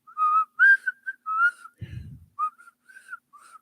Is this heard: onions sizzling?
no